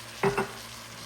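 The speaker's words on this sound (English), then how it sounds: "So now we'll go ahead and we'll add our sauce." Lasagna sauce goes into a hot pan with two quick, close sizzling splashes in fast succession, then settles into a faint, quiet background.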